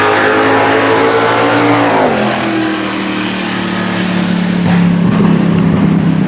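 A drag racing car with a 5.3 engine and a turbo runs hard down the track on a pass, a loud close engine roar whose pitch drops once and then holds steady.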